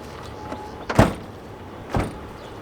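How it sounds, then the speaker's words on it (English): A Chevrolet Silverado truck door, rebuilt after a rollover and not closing properly, is swung and slammed twice, each a sharp thud with a rattle, about a second apart, in a quiet space. "Door won't close."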